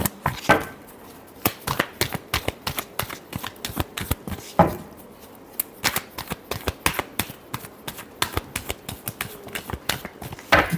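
Tarot cards being shuffled by hand in repeated quick riffling bursts, crisp papery slaps and flutters close up, with short pauses between runs and no talking.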